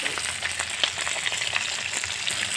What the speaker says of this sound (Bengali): এবারে বন্ধু, আমার মাছগুলো সব ভাজা হয়ে গেছে।